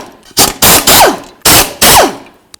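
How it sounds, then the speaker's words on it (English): Four loud, sharp broadband impacts in two pairs, a rubber mallet bonking the fan clutch on a 1994-2004 Chevy S-10, each hit ringing briefly with a falling squeal-like tone, close and alone. "we're going to use a nice rubber mallet. I'm just going to lift up on this and give it a nice loving bonk"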